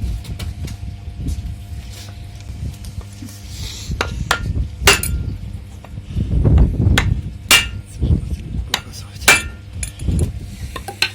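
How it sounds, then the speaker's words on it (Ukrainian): A hammer drives a bearing onto a tricycle part, landing a series of sharp, irregular metallic strikes close up, some in quick pairs, with quiet pauses and handling noise between. "запресували ми подшипник старим дідовським способом, з допомогою молотка"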